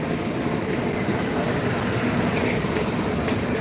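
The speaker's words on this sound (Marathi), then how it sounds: "हा मेट्रोचा ब्रिज आहे हे मेट्रो स्टेशन आहे मेट्रो रेल्वे" A metro train runs over an elevated bridge near Saki Naka and Powai, producing a steady, loud rumble with no talk.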